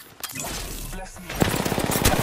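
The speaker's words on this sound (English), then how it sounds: "Shots fired at me" Rapid bursts of video game gunfire rattle through a squad firefight, with a dense run of shots in the second half over busy background sound and faint voices.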